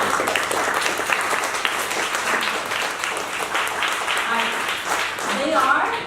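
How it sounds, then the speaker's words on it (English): A big round of audience applause in a room at a talk, dense clapping lasting several seconds with voices and a few whoops mixed in. "Give a big round of applause to Patrick and Joe."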